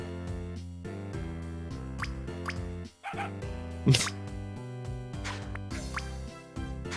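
A puppy yips and barks in the Scribblenauts video game, short high barks scattered over looping game music, with a brief whimper-like sound among them.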